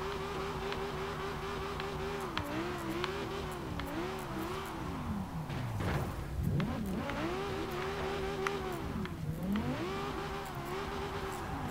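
A car engine revs and accelerates through town streets, its pitch climbing and falling through gear changes, close and loud throughout with a brief tire squeal mid-drive.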